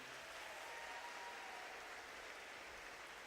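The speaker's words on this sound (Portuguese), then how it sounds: "a igreja pode dar um aplauso à vida de cada um deles" A church congregation applauding its fathers during a Sunday service, a steady even wash of clapping that sounds faint and distant, without pauses.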